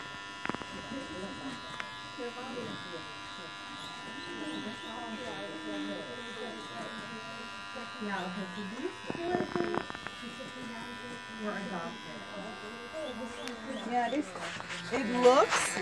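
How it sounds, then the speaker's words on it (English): An electric shaver buzzes steadily while shaving the fur of a guinea pig with a burst cyst, running close and continuously under frequent talk from several people. "So we need to shave it."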